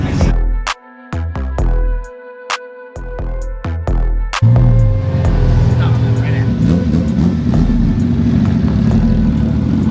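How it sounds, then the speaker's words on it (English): A Ford Shelby GT500 Heritage Edition in Brittany Blue revs in short bursts with brief gaps, then roars loudly past at close range with a sustained engine note. "There goes this GT 500."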